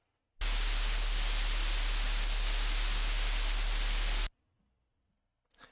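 Soloed synthesizer noise layer, a steady, loud burst of broadband hiss that starts abruptly, holds for about four seconds, then cuts off into near silence.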